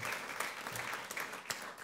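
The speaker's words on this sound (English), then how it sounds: "let's give God a big round of applause" A crowd clapping steadily, a dense wash of applause with a few sharper claps standing out, no voices over it.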